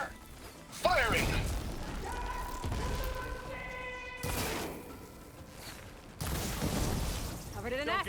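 Gunfire, crashes and booms from a Horizon Forbidden West battle, with sharp impacts and bursts of fire breaking over a continuous din, plus some electronic whines and shrieks. Speech is mixed in.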